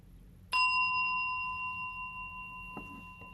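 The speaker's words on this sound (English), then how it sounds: "I'll be inviting the bell." A meditation bell struck once, a clear, bright ring that sustains and slowly fades over a few seconds in a quiet room, with a faint knock near the end.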